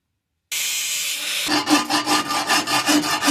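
A metal pipe U-bend being cut off near where the bend ends, with a steady grinding rasp from about half a second, then rhythmic back-and-forth sawing strokes, close and loud, with no talk.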